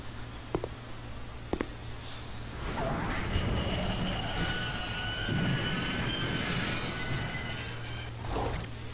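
A subway train runs through Seoul Station in a Korean horror game: a steady rumble of wheels on rails, a few sharp clanks, then rising metallic squeals of the wheels over the rumble.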